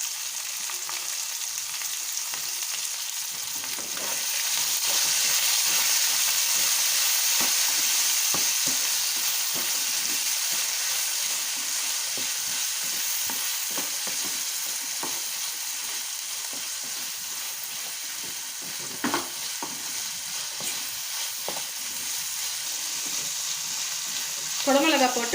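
Chopped capsicum sautéed in a pan with potato and onion gives a long, steady sizzle, broken by soft scraping and stirring strokes and a few sharper clinks near the end.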